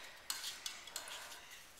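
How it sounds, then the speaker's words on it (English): A spoon stirs a crystal growing kit solution in a container, with faint, quick clinks and scraping taps repeating over a soft background. "So keep stirring."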